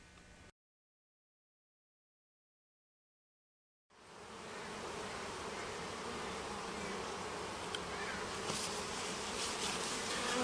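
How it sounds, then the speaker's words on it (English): Honey bees buzz densely over a hive frame, a steady close swarm drone that rises in after a brief cut to silence and continues unbroken. "We have some nice fresh honey on this frame, and lots of bees."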